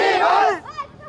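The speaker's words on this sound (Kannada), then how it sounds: "ಜೈಕಾರನ ಕೂಗ್ತಾ ಇದ್ದೀರಾ, ಅಷ್ಟು ಕ್ರೇಜ್" Fans of actor Darshan chant and cheer outside his house on his birthday, a loud burst of massed voices shouting together that breaks off, followed by a shorter, quieter call.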